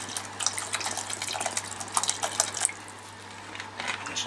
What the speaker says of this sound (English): I'm just going to add a little bit more water so the soup will go a bit further.